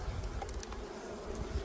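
Honey bees buzz around a hive in a small colony during splitting and queen introduction, a steady, dense hum close by, with no talk over it.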